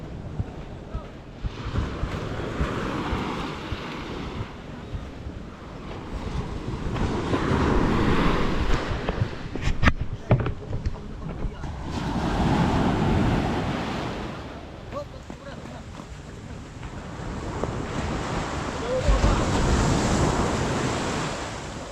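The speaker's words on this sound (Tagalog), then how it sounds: "Tapos may alon." Sea waves slap and surge around a small, low-riding boat, rising and falling in swells under gusty wind on the microphone, with a voice talking faintly now and then.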